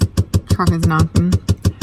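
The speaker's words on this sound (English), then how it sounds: "Truck is knocking." A truck engine knocking, a fast, even train of heavy thuds repeating several times a second, loud and close, with a brief voice-like sound over the middle.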